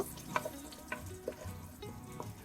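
Cinnamon, cardamom, bay leaf, fennel and shahi cumin fry in a pan with a faint low sizzle and a few light taps of a utensil, quiet and close, no voices.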